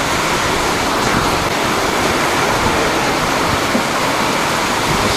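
Heavy rain pours down steadily in a wind storm, driven through an open house, forming a loud, dense, continuous roar with no pauses or voices.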